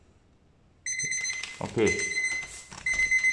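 A manual packaging air leak tester's timer alarm sounds after a 30-second test, a loud, steady electronic beeping that starts suddenly and keeps going while a person says a brief word over it.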